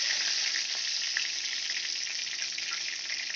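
Catla fish heads frying in hot oil, a steady close hiss of sizzling with faint crackles and pops throughout, no voices.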